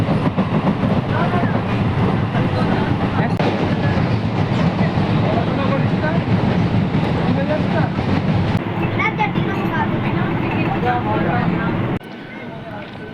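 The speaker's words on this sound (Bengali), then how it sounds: "এইদিকে একটা ট্রেন গেল" Passenger train rolling toward Belur station, a loud continuous rumble with rail rattle heard from close by, steady throughout before dropping off near the end; people talk over it.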